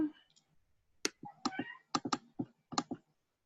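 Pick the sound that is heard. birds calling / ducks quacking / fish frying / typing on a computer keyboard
typing on a computer keyboard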